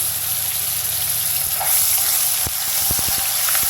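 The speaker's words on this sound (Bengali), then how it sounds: "তেলের মধ্যে একটু ভেজে নেব এটাকে।" Ginger-garlic paste sizzling in hot oil with bay leaves while cooking potato curry, a steady close frying hiss with a few sharp stir clicks and knocks near the end.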